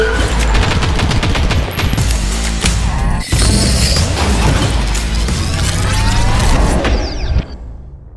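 Bren machine gun fired in Warzone on the Caldera map, loud sustained automatic bursts with heavy booming reports, a brief pause partway, then continued fire before cutting to a faint tail.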